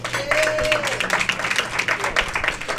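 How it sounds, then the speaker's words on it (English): An audience at a radio show claps in a loose burst of applause, fairly close, with voices underneath. "She's all giggly and clapping, and she doesn't know why"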